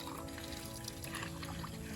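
Strong, clear water gushes steadily from a newly built farm water outlet, a dense continuous pouring rush that fills the whole moment at close range.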